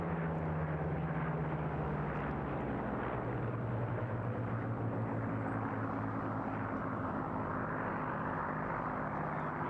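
Spitfire fighter aircraft flying at the Eastbourne International Airshow, a loud continuous piston-engine roar with broad rushing noise and steady low tones that hold throughout, with no talking.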